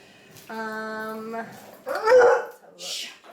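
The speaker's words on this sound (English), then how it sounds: "my dogs are going" Pet dogs bark and whimper indoors during a live question-and-answer chat, a few short yelps mixed in among people talking nearby.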